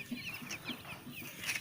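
Broiler chickens on a farm clucking softly in short, repeated bursts, several birds close by and fairly quiet, with no talk.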